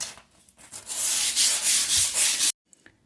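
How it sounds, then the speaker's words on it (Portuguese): Paint being sanded off a clay pot with a small scrap of sandpaper, a close, steady scratchy rubbing in repeated strokes for about two and a half seconds before stopping abruptly. "só vamos nivelar com um pedacinho de lixa, nivelar um pouquinho essa tinta que ainda ficou aqui"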